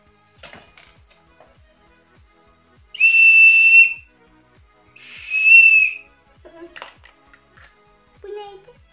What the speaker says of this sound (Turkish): Düdük. Düdük.